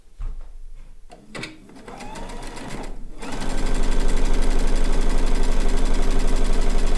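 After some quiet handling clicks, a sewing machine starts up and runs loud and steady, stitching around the edge of a blue and white quilt top at a 4 mm stitch length.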